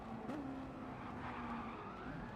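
Race cars brake into a corner in a Miata racing game, their engines whining with a falling pitch and tires scrubbing over steady, moderately distant road noise.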